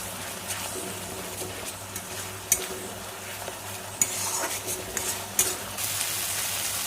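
Spice paste with Kashmiri chili powder sautéed in a pan for katla fish kalia, a steady close sizzle broken by scattered scrapes and knocks of a spoon against the pan.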